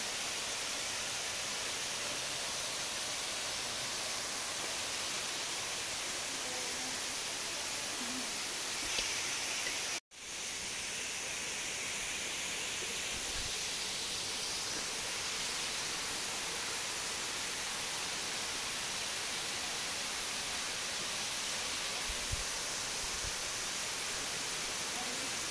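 Middle Falls waterfall on the Tai Mo Shan trail, a steady broad rush of falling water that fills the whole stretch, with a brief dropout partway through and no clear talk.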